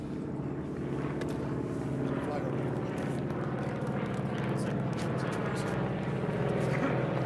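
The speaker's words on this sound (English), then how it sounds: "If you take a look above, we have a flyover from some historic aviation." Historic aircraft flying over an outdoor Veterans Day ceremony, a steady loud engine drone that holds through the whole stretch and swells slightly toward the end.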